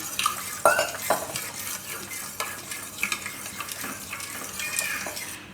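Milk being stirred a little at a time into a flour mixture in a pan for a Gujarati dudhi kofta curry, with steady scraping and clinking of the spoon against the pot and a faint sizzle beneath.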